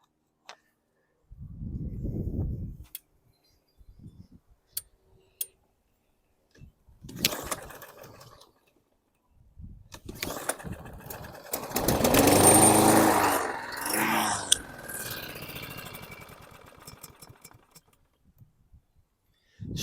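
A 2012 Yard Machines lawn mower engine with an automatic choke and bad fuel sputters in short, uneven bursts, then catches and runs roughly for several seconds before dying away. The sound is near and fairly loud.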